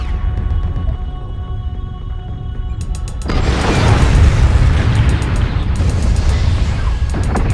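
A mech blown apart in MechWarrior Online: a deep, rumbling explosion swells in partway through and roars on, laid over a steady low mechanical drone and faint beeping cockpit tones.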